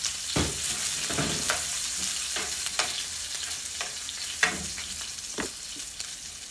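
Chopped onion sizzles steadily in a pan for a squid dish, with soft scraping stir strokes recurring every second or so close by.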